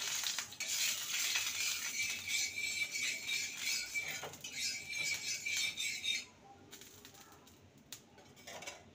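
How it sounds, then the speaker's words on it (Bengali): Refined oil spread around a hot tawa on a gas stove, with close scraping and metallic stirring against the pan over a soft sizzle, stopping abruptly partway through and leaving faint clinks. "এবার তেলটাকে ভালো মতন চারিদিকে ছড়িয়ে দেব।"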